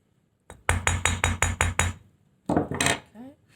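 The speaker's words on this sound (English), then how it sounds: "when I use my rawhide mallet, it doesn't open up" A rawhide mallet strikes a wire earring loop on a hard surface: a quick run of about seven sharp, evenly spaced taps, a pause, then a few more knocks close up.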